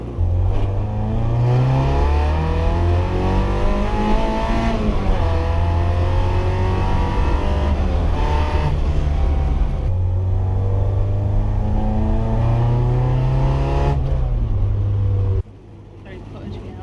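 A Mk2 Escort car on country roads, its engine droning loudly and steadily close by, with revs climbing and falling through gear changes before the sound drops away near the end.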